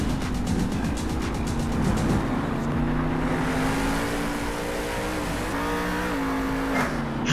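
Grave Digger monster truck engine from the Monster Jam video game racing continuously, a loud steady roar with rising and falling pitch as it tears around corners, with occasional revving surges.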